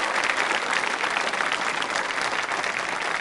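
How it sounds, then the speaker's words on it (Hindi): Quiz show audience applauds in a steady, dense wash of clapping that stays loud and even throughout, with no talking over it. "एक बार फिर इनके लिए तालियां बजाइए जोर से।"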